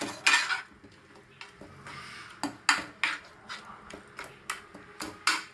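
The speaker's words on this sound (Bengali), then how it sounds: "এটাকে দিয়ে ভালোভাবে আমি একটু কষিয়ে নিচ্ছি মশলাটাতে, যাতে মশলার কাঁচা গন্ধটা বেরিয়ে যায়।" A spoon stirs and fries masala in a pan for a Bengali fish curry, giving sharp repeated metallic scrapes and clinks in an uneven rhythm, close and fairly loud, with no talking.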